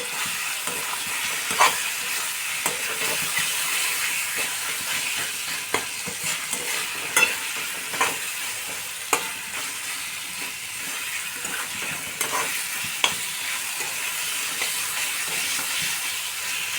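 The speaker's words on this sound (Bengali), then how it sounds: "আমি কিন্তু মশলাটা আঁচ কমিয়ে আলুটা নেড়ে নিচ্ছি, যাতে মশলাটা পুড়ে না যায়।" Fried potatoes stirred through spice masala over low heat, a soft continuous sizzle with regular scraping and clinking strokes of the spoon against the pan.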